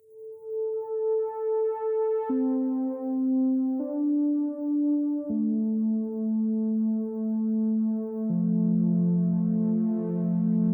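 A recorded MIDI line played on a Korg Minilogue analog synth: sustained tonal notes changing pitch every second or two, a thin lead sound that thickens into fuller chords near the end, steady and clear with no talking.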